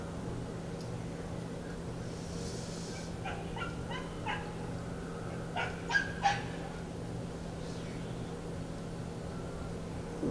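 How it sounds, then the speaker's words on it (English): A neighbor's dog barks in short bursts at a distance during a quiet outdoor tai chi session, several sharp yelps clustered midway over a steady low hum, with birds faintly audible. "that's the neighbor's dog."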